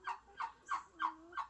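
A fowl calls in five quick, evenly spaced gobbling bursts, close and fairly faint, with no talking.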